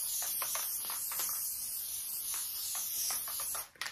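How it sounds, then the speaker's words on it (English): Gorilla spray glue hisses from an aerosol nozzle onto bag-making material in a series of short and longer bursts, close and fairly loud, ending with a brief pause and a small clatter. "And I'm just using Gorilla Spray."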